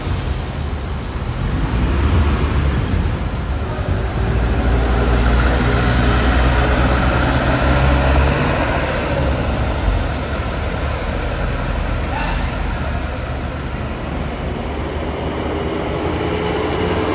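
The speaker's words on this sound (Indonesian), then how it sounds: "datanglah sebuah bus berkelir ungu dengan tulisan papan trayek Patas AC Semarang" A purple air-conditioned express bus on the Semarang route pulls in with a loud, steady low engine rumble and road roar that stays constant throughout, with no voices.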